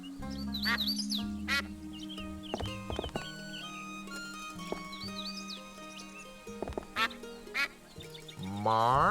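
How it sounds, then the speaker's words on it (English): A cartoon duck quacks in the point-and-click adventure game Escape from Monkey Island, its quacks mixed with horse-like clip-clop, whinny and a moo-like call over game music, short repeated calls across the clip. "I can press the use button to make him quack anytime I want to."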